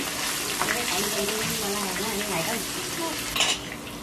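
Cubes of paneer fry in oil in a pan while being stirred, a steady close sizzle with occasional scraping, with a voice talking over it.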